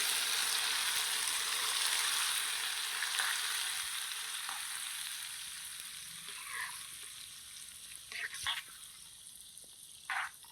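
Milk-and-jaggery dough dumplings (pala thalikalu) are gently stirred through simmering milk in a pan, a steady frothy bubbling hiss with a few soft scrapes of the spoon near the end.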